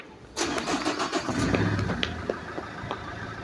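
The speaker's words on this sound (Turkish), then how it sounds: "Araba geliyor. Kenara geç." A car engine nearby starts up abruptly and keeps running with a steady, rumbling drone, close and fairly loud, with no voices over it.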